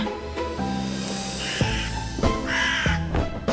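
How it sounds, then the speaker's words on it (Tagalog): A crow caws repeatedly as a story sound effect, harsh loud calls in irregular succession over a layered eerie background. "Sa gitna ng alita namin, bigla na lang lumipad ang uwak ni Inang Kayla."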